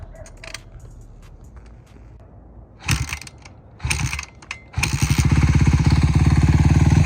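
A dirt bike engine idles unevenly, then revs in short bursts before opening up into a sustained loud run as the rider shifts into second gear, close by.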